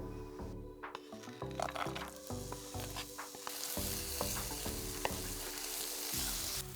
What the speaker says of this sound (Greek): Ψιλοκόβω ένα κρεμμύδι και το ρίχνω σε μια κατσαρόλα που έχω ζεστάνει ελαιόλαδο